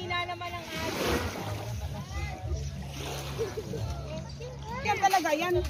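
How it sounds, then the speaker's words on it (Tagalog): Sea waves at a beach during a summer family outing, washing and splashing nearby under frequent voices of people talking and calling out. "Alon! May alon!"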